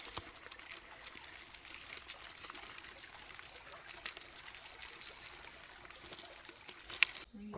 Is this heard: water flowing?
yes